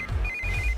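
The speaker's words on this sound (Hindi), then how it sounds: "इस वक्त दीदी का फोन।" Telephone ringtone for an incoming call in a Hindi-dubbed action film, a short bright electronic trill over a low background rumble, brief and clear.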